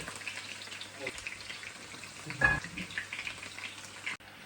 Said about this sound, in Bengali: তেলটা একটু বেশি গরম হয়ে গেছে এটা বোমবাস্টিং এর মতো ফুটতেছে